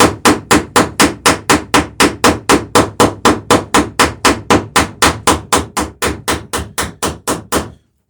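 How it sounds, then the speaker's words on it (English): A hammer strikes copper rivets on a dinghy in a fast, even series of about thirty sharp metallic blows, close and loud, each ringing briefly before the next, then stopping. "you can see how the hammer strikes are kind of sliding off the sides of the head"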